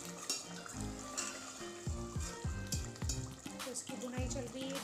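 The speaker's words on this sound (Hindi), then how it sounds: "इसकी बुनाई चल रही है, 10 से 15 मिनट हम इसकी बुनाई करेंगे।" Mutton curry sizzles and fries while being sautéed in a pan, a steady crackling hiss with occasional stirring clinks close by, and no voices over it.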